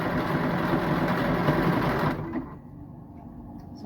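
A sewing machine stitches round neck banding in a fast steady whir close by, then slows and stops about halfway through, leaving quiet room tone.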